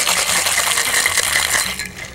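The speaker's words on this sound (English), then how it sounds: "Shake is really, really good. The harder you shake it," Ice rattling hard inside a cocktail shaker as a Beefeater dry martini is shaken, a dense continuous clatter with bright clinks, loud and close throughout.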